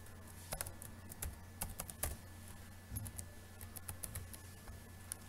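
Someone types on a computer keyboard in short bursts of quick, light key clicks, with brief pauses between runs, close and fairly quiet in a calm room.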